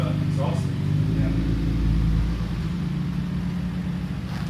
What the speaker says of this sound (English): sounds much better without the exhaust